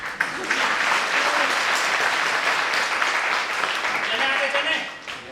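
Sustained loud applause from a training-seminar crowd at a network marketing event in Meerut, continuous clapping throughout that thins slightly toward the end, with a few voices underneath.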